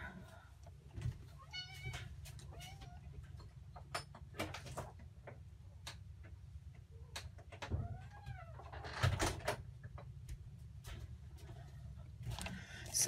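A house cat meows several times, fairly faint and a little distant, over a quiet indoor room with low background hum. Scattered clicks and knocks sound as a door is opened to let it out.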